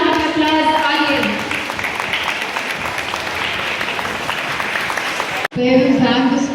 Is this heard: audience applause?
yes